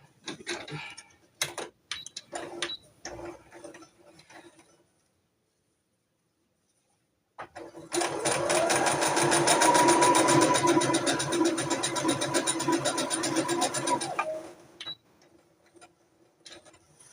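Sewing machine stitching fabric: a fast, even mechanical run of needle strokes lasting about six seconds, close and loud, with scattered handling clicks and small knocks before and after.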